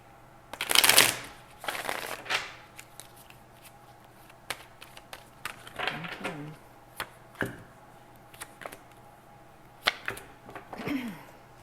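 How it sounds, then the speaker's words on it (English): Tarot cards riffled in a quick burst near the start, followed by scattered soft taps and shuffling noises against a quiet room. "Let's do one"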